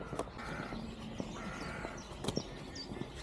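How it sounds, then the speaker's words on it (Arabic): Wild birds calling in a forest at a campsite, with several loud crow-like caws standing out over a steady chorus of chirps and background rustle, fairly close and clear. "اليوم كل انواع الطيور جاي تغرد"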